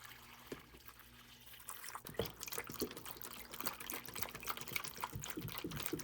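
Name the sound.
half-strength fertilizer poured into a plant tray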